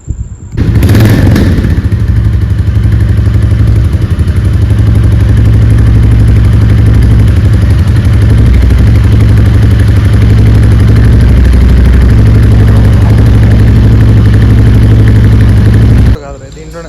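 A Royal Enfield Goan Classic 350 motorcycle fires up with a sharp burst, then settles into a loud, steady, close thumping idle that runs for about fifteen seconds before cutting off.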